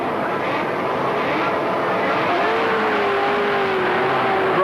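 A pack of 1983 Australian touring race cars launching off the grid at Symmons Plains, engines roaring loudly and continuously with a rising tone as they accelerate away, under an excited commentator's voice.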